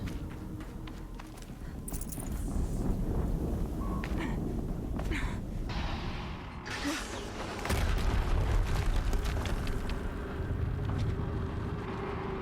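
Explosions in the video game Horizon Zero Dawn, deep booming blasts and rumble with crackling debris across a dense, loud game soundscape, with a heavier burst of low rumble partway through.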